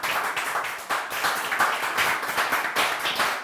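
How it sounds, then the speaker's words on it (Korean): An audience claps steadily at a small-moving business event, a dense, close wash of many hands running for several seconds with no talk over it. "박수 한번 쳐주세요."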